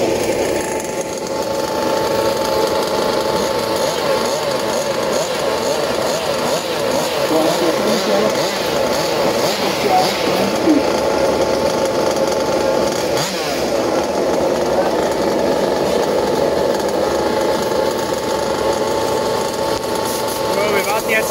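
Engines of large-scale RC short course cars, warmed up before a championship final at an RC club, drone and buzz continuously with a steady, loud two-stroke rasp, while a voice speaks over them.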